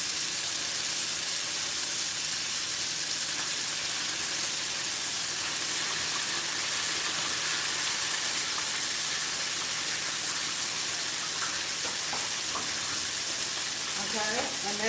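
Vegetables frying in oil on an electric stove for chow mein, giving a loud, steady sizzling hiss throughout with some crackle and stirring toward the end.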